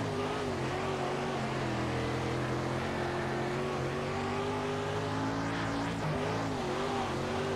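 A sprint car engine in the World of Outlaws racing video game drones loudly and steadily, its pitch shifting slightly as the throttle changes, with no talk over it.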